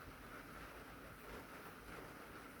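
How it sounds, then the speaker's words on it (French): Steady rain falling outdoors around a camper van under conversion, a continuous broadband hiss of drops on surfaces, moderately loud and even throughout with no talk. "les gars sont contents parce qu'il pleut"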